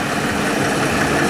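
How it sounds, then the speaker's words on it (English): Scammell heavy haulage tractor unit at a vintage vehicle rally, its diesel engine running in a steady, dense broadband roar, loud and continuous with no talk over it. "the Sons Brothers tractor unit, again a heavy haulage tractor"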